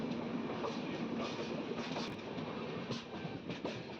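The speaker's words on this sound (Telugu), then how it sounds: "మన ట్రైన్ పక్కన ఏదో ట్రైన్ వెళ్తుంది" A train rolls slowly along the neighbouring track beside a stopped or slow express, a steady rumbling clatter of wheels and cars that stays even and close throughout.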